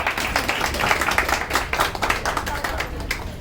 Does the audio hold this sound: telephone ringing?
no